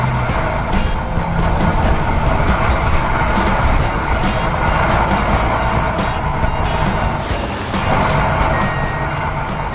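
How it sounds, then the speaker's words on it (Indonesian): Animated excavator loading debris into a dump truck on a mountaintop, loud continuous engine rumble with mechanical clatter and a steady reversing beep on top. "Ia mengeruk puing-puing itu dan memindahkannya ke dalam truk sampah dengan sangat rapi."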